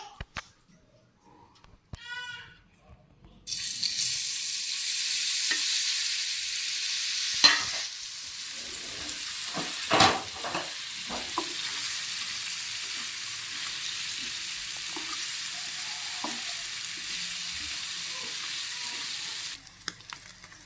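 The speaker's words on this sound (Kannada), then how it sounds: "ಈಗ ಎಣ್ಣೆಯಲ್ಲಿ ಫ್ರೈ ಮಾಡ್ಕೋಬೇಕು" Marinated pieces for a sandwich are dropped into hot oil and fry with a loud, steady sizzle that starts abruptly and continues for most of the stretch, with a few clatters and stirring knocks over it.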